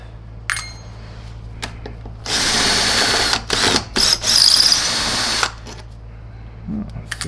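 A power screwdriver whirs in several short bursts as it backs screws out of a Tristar EXL MG canister vacuum cleaner, loud and close, with small metallic clicks from the screws between runs.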